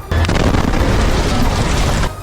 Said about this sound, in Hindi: जिसमें एक के बाद एक कई तेज धमाके होते दिखाई दिए।